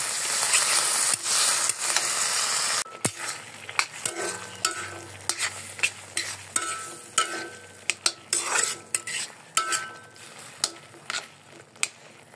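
Spices and tomato are stir-fried in a pan before potatoes go in for a prawn curry: a short burst of steady sizzling, then a quieter hiss punctuated by repeated sharp clinks and scrapes of a spatula against metal.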